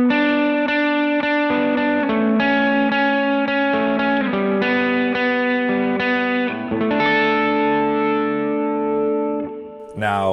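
Guitar played through a Lightspeed pedal alone with reverb and delay added, giving a sequence of sustained, harmonically rich notes and chords that ring into echoing tails, loud and close with no talking.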